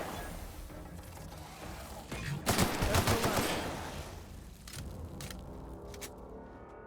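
Rapid bursts of gunfire in The Outer Worlds video game, a dense crackling volley peaking in the middle, followed by scattered sharper single shots and clicks.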